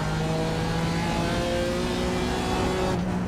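Race car engines in the iRacing sim at the Nürburgring, with MX-5s and GR86s on track, drone continuously and loud throughout, rising tones sweeping upward as cars accelerate, with a brief shift near the end.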